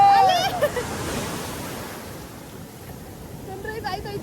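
Ocean waves crash onto Pondicherry beach in a loud, continuous roar of surf with wind buffeting the microphone, and brief voices are heard at the start and end.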